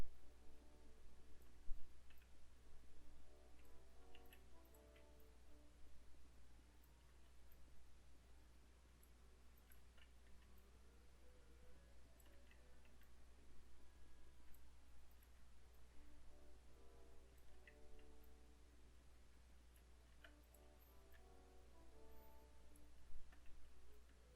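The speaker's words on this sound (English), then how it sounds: "I'm not sure how loud the keyboard and mouse are" Keyboard keys and a mouse clicking while building in Minecraft, faint and intermittent, light taps scattered over a steady low hum with no talking.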